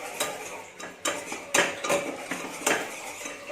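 A utensil scrapes and clinks against a pan in a series of irregular stirring strokes, mixing flour into butter for béchamel, close up and with no talking.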